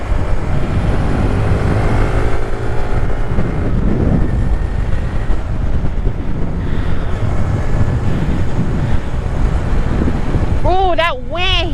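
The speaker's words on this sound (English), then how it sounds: "Oh, that wind hitting." Steady, loud wind buffets the microphone of a rider on a Honda Grom motorcycle, a constant roaring rush with engine rumble beneath, and a brief voice near the end.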